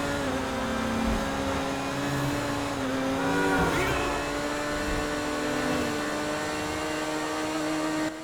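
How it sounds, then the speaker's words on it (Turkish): A Koenigsegg Jesko hypercar in GTA 5 revs hard, its engine note rising and shifting through gears with a brief tire squeal partway through, loud and continuous with no talking. "Jesko'nun da bir sesini dinledim."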